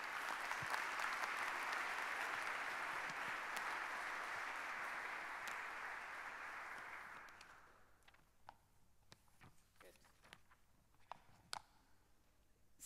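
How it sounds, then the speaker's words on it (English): A conference audience at a quantum technology kickoff event in Vienna applauds people on stage: loud, sustained clapping for about seven seconds that fades into scattered last claps and room noise. "why don't we start by a round of applause for all these people who traveled all the way"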